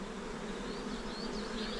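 Honey bees swarm around a hive during a shook swarm, a dense continuous close buzzing drone that stays steady and fairly loud throughout, with no voices.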